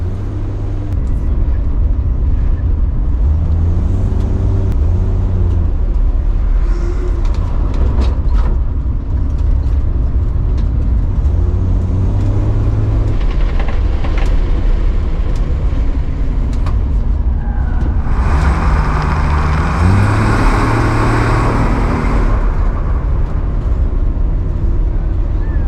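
A car on its first autocross run, fitted with a stiffer sway bar, drives with a steady loud engine drone that rises and falls as it takes the turns, with brief voices.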